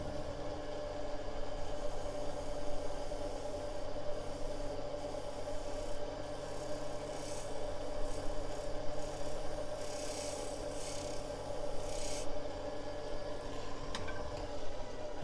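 A small gouge cuts wood on a lathe, giving a steady, close rasping scrape over a constant low machine hum for the whole stretch, with no talking.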